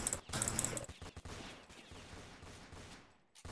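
Gunfire from weapons in a Roblox Fortnite game comes as a quick burst of rapid shots up front, then fainter scattered pops and a dying tail, with no talk over it.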